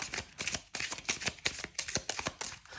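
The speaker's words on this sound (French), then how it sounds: "Ensuite, on va tirer 2 cartes de l'oracle des météores." Oracle cards being shuffled and drawn by hand, a rapid run of crisp papery riffles and slaps repeating in an irregular rhythm, close and clear with no talking.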